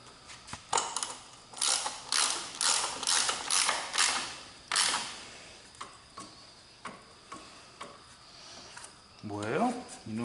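A ratchet with a 9/16 socket turns an axle nut on a Brute mower with stripped axle threads, giving a run of quick clicking bursts close by, then sparser single clicks, with a brief creak near the end.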